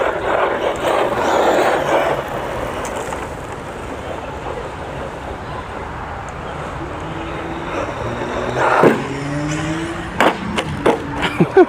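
A Fury RC car running on 3S lipo launches off a ramp outdoors and lands, with a loud rolling rumble, a whining motor pitch, and a sharp impact thump near the end amid wind noise.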